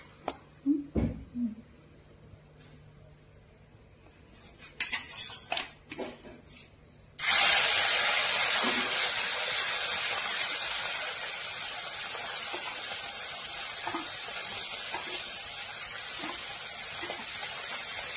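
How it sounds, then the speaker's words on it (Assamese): Loud, steady hiss of small fish frying in hot oil starts abruptly after several seconds of quiet clattering and handling noises, then sizzles continuously close by. "ধুনীয়াকৈ তেলৰ লগত ভাজিব"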